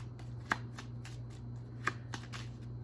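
Lenormand cards being shuffled by hand, a close, continuous riffling patter broken by two sharper card slaps, with a low hum in the background.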